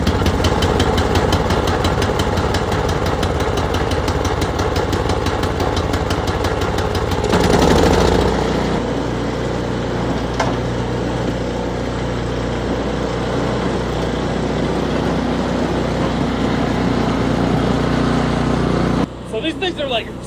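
Snowblower engine pulled to life and left running, a loud, close, steady knocking chug with a brief surge early on, and talk over parts of it.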